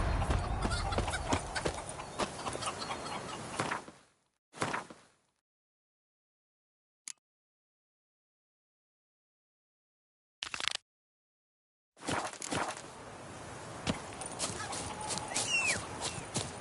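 Horse hooves clip-clop in a quick gallop in the video game The Witcher 3, loud and close at first, then cutting out into silence broken by brief bursts before the hoofbeats resume near the end.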